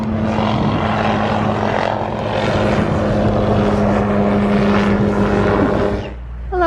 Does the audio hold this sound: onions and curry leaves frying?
no